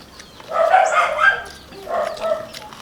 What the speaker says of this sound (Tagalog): May mga aso sa kabilang bahay.